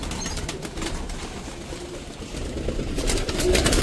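A flock of Punjabi pigeons coos close by, soft overlapping low calls over a continuous outdoor murmur, with a rise in noise toward the end.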